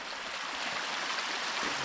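Heavy runoff rushes down a hiking trail on the West Highland Way in Scotland, a constant broadband hiss of flowing water, close and steady, with no talk.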